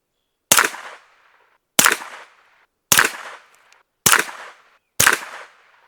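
Five sharp, evenly spaced shots from a suppressed Springfield Kuna 9mm carbine firing Blazer 115 grain ammunition, each a loud crack with a short decaying tail, about a second apart and with no talking.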